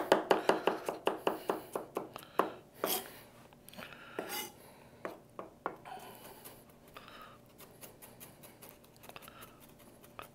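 A very sharp knife chops vegetables for slaw on a board, starting with a quick, even run of crisp strokes, then slowing into scattered, irregular cuts and scraping.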